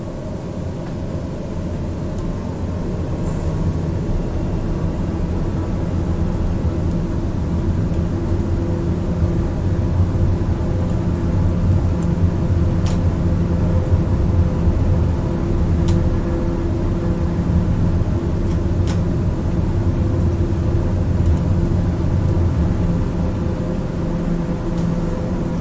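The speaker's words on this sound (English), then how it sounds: "We're clear to takeoff and we're rolling." A flight simulator aircraft rolls for takeoff, with a loud, steady, droning engine hum and rumble that holds for the whole stretch, broken only by a few faint clicks.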